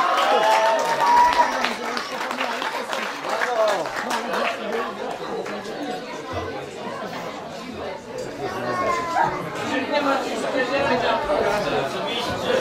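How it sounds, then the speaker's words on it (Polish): A crowd at a road race podium ceremony applauds as finishers step up, steady clapping blended with lively chatter from onlookers, fairly close and continuous throughout. "Wielkie brawa, zapraszamy."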